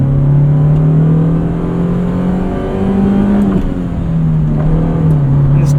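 A 1991 Honda Civic Si EF hatchback's D16 engine revs with the windows up, a deep, throaty drone heard from inside the cabin that rises and dips in pitch with throttle changes.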